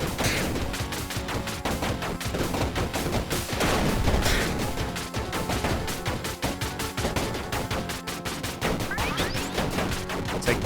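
Rapid, relentless bursts of powerful gunfire blast nonstop in the sci-fi shooter game Overpowered on Mars, loud, dense and close, with crashing impacts mixed into the barrage.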